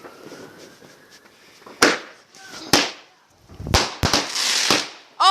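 Firecrackers and fireworks going off on bonfire night, several sharp, loud bangs at uneven intervals with crackling between them and a quieter stretch at the start, while people talk nearby.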